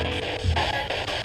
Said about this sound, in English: As it scans through radio signals, it's giving a white noise